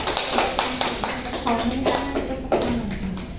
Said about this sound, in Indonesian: Tepuk tangan dulu dong, guys.